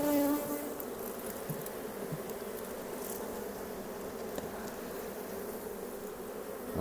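Honey bees at an opened hive with comb holding honey and pollen, a dense, close, continuous buzzing hum with individual bees droning past, and no voices.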